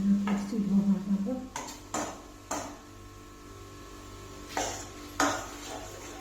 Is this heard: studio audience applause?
no